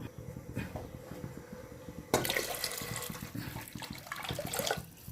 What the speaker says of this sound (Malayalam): നമുക്ക് ഇതിന് 2 പാട്ട വെള്ളമാണ് ഒഴിക്കേണ്ടത്.